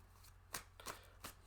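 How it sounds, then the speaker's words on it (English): Tarot cards being shuffled by hand in a few soft riffling bursts, faint and close, with no talking. "Shuffling your cards now, Diane."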